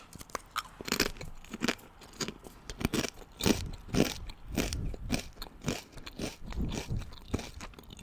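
Crunching and chewing of CHAZZ potato chips while eating, close and crisp, with repeated irregular bites and crackles filling the whole stretch, no talking.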